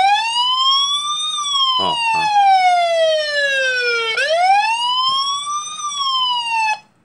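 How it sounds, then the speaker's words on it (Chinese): A WiFi security camera's built-in alarm siren wails loudly and close, sweeping slowly down and back up in a continuous electronic tone for several seconds before cutting off, with a brief spoken interjection partway through. "它就会有所谓的警报器会响"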